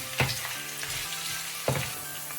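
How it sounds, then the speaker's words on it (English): Chopped onions frying in a pan for chicken korma, a continuous close sizzle broken by two distinct scraping stirs about a second and a half apart, with no voices. "Just add all the onions and mix it nicely."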